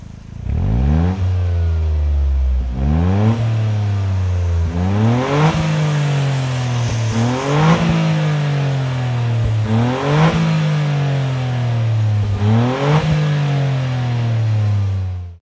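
A tuned Toyota GR Yaris engine revs hard through repeated gear pulls, each climbing whine ending in a quick shift drop, roughly six cycles in a loud, close, continuous run with no talking.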